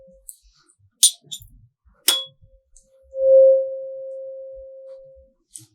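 Tuning fork struck and held over a resonating air column in a physics lab for a velocity of sound experiment, giving a few clinks then a clear pure tone swelling and slowly fading over about two seconds.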